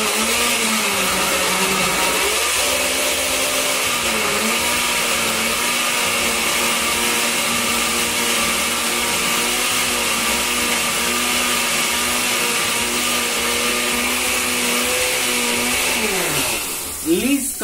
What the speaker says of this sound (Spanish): Ahora lo que vamos a hacer es moler todo.